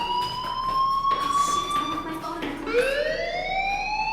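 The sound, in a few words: fire alarm ringing in video game Life is Strange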